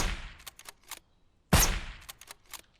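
Gunfire in the zombie survival game SurrounDead: a few scattered sharp shots early on, a pause, then a loud close blast followed by several quick cracking shots.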